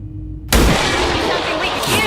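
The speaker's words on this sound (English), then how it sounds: "Let's see how you do with this sniper rifle." A single loud sniper rifle shot rings out in XCOM 2: War of the Chosen, with a sharp onset and a dense reverberant tail lasting about a second and a half after a quiet lead-in.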